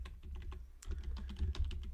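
Keys rattle on a computer keyboard in quick, uneven bursts of close, soft typing, with no voices heard.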